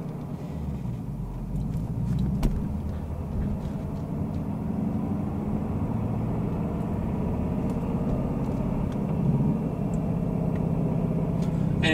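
A 2018-2019 Ford Mustang GT rolling slowly in first gear at low revs, with a steady low engine rumble and faint, light ticks scattered through it, close to the car.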